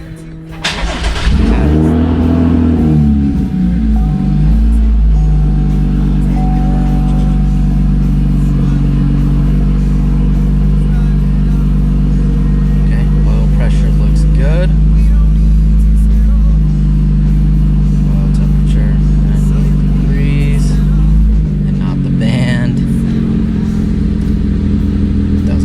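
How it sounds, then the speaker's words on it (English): A 2016-2018 Chevrolet Camaro V6 with a manual transmission starts and settles into a steady, loud idle after an oil change, with a few light clatters over it. "So I always just start the car, let it run for a while, and then check again for leaks."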